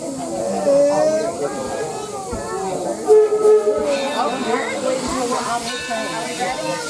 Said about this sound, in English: Welcome aboard the Greenfield Village Railroad and our Torch Lake locomotive.